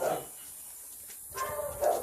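Small dogs bark and yip in two short bursts, one at the start and one near the end, with a quiet gap between, fairly close and moderately loud.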